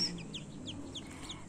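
Newly hatched chicks from an incubator cheep in a rapid series of high, short peeps over a low background hum, close and steady.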